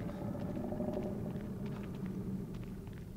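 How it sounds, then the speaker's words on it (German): A low, ominous rumble drones through a dark horror scene in The Evil Within 2, steady and moderately loud, with faint scattered ticks and patters over it. "Dieses Grollen klingt für mich nicht gerade so einladend."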